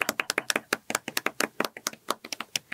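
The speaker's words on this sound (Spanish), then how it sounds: "Aplausos." Sharp, distinct hand claps from a small group at a women's football event in Mexico, a quick irregular patter of close, moderately loud claps with no talking.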